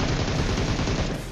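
Rapid, dense video-game gunfire in a multiplayer shooter as a hacker lands two or three shots on the player, a loud continuous burst of overlapping shots with no pauses and no talk.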